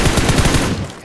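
Rapid automatic gunfire in the battle-royale shooter PUBG Mobile, a dense, loud, continuous burst of shots rattling close by with no pause, tailing off slightly at the end.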